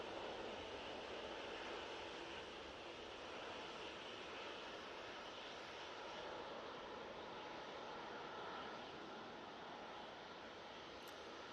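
An Airbus A321neo airliner takes off for Madeira from Manchester Airport, producing a steady, dense broadband jet roar that holds at an even level throughout, with no talking.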